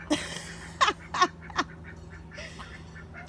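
Geese and a duck squabble nearby, with several short honking and quacking calls in a loose, irregular burst, set against a faint steady hum in the background.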